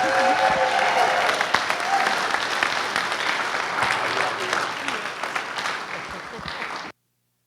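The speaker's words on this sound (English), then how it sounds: "she gets a big extra round of applause for that" Sustained crowd applause at a bishop's retirement event, a big extra round for Mom, dense and steady for about seven seconds before cutting off abruptly, with some voices mixed in.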